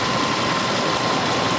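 A car engine idling steadily with the ignition on, a constant close mechanical hum with a faint vibration, beside a Xiaomi 70mai tire air compressor, with no speech.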